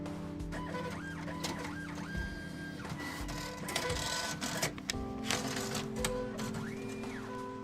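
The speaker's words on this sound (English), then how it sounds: "I watched him carefully navigate the register's buttons, soon followed by the sound of the attached printer." A cash register's attached receipt printer in a video game prints, rapid mechanical chattering and whirring bursts with tonal sweeps over steady background music, close and continuous.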